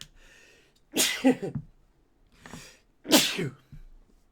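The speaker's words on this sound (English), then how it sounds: "I have to sneeze." Two loud, close sneezes a couple of seconds apart after taking Paul Gotar vanilla snuff, each with a breathy intake before the burst, and no talking.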